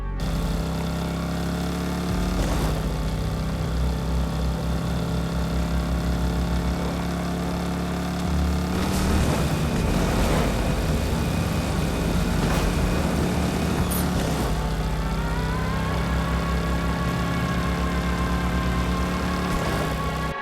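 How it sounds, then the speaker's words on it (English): A muscle car with a huge blower scoop rumbles in Fortnite, a deep, loud, continuous engine drone with throttle swells and pitch shifts throughout. "Between the deep pitch and the intense rumble, it is pure muscle and nothing else."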